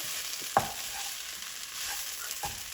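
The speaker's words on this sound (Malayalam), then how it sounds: "തീ നന്നായിട്ട് കുറച്ചിട്ടിട്ട് ഇളക്കി യോജിപ്പിച്ചെടുക്കാം" Chicken samosa filling stirred in a pan over a low flame: a soft, steady sizzle with a few scraping strokes and one sharper clack near the start, close and fairly quiet, no talking.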